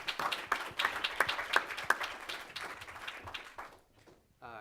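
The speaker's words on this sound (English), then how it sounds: "One more time, an applause for you" Audience applause at a political reform discussion, scattered claps fading over several seconds into quiet, with faint voices murmuring beneath.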